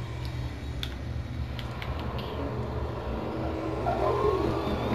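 A car in the Roblox Greenville driving game drifts through a turn, with a steady low engine drone, light ticking and a faint rising squeal near the end.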